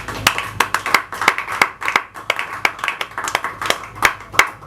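An audience at a members' meeting of an association claps in sparse, uneven rhythm, individual sharp hand claps close by and distinct rather than a dense roar, continuing steadily throughout.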